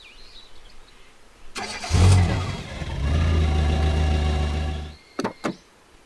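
A car engine cranks and catches, then settles into a loud, steady idle that cuts off abruptly. Near the end come a couple of quick thumps, like a car door, and birds call faintly in the background.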